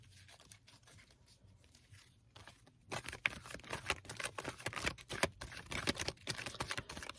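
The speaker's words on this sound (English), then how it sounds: "these are not the easiest to shuffle" Tarot cards are shuffled up close, starting faint and then turning into a dense, rapid patter of riffling and slapping card edges for the last few seconds, with no talking.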